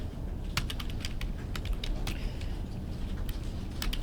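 Rapid, steady typing on a computer keyboard, close and clear, with crisp key clicks in irregular bursts and no talking.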